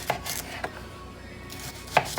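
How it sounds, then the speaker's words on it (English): A knife chopping a shallot into little bits on a board, a few sparse, irregular cuts, close and fairly quiet, with soft rubbing between strokes. "I have my shallot and now I am just gonna cut into little bits."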